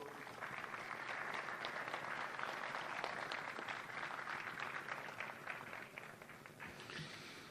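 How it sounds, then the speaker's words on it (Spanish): A crowd at the opening ceremony of the Río Cuarto rural exposition in Argentina applauds in a dense, steady wash of clapping that holds for several seconds before easing slightly. "Lo recibimos entonces con un aplauso."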